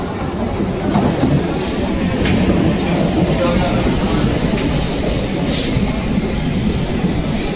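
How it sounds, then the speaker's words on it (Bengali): A Sealdah-bound local train rolls into a station late on a cold night, a loud continuous rumble with rail clatter, and people talking over it. "আমার শিয়ালদার ট্রেন চলে এসছে।"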